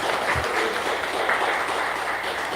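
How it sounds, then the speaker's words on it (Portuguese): Congregation applauding the children during a church adoption service, a dense, steady wash of many hands clapping that fills the room for a few seconds. "peço uma salva de palmas de todos, pelos nossos pequenos"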